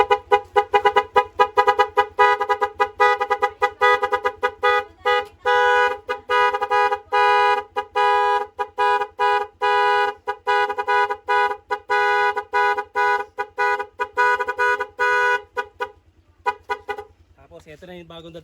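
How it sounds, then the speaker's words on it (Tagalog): A dual air horn on a test bench blares in loud, sustained tonal blasts, honked repeatedly in short and long bursts with brief gaps, ending with a softer trailing tone; no voices over the horn. "Ito ha, ito yung busina niya."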